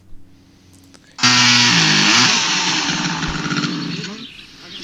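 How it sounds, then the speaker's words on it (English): A chainsaw roars to life after a quiet second, cutting firewood loud and close with a steady buzzing drone that eases slightly toward the end. "is using a chainsaw to saw firewood for their outdoor fire pit"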